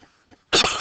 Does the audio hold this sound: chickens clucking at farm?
no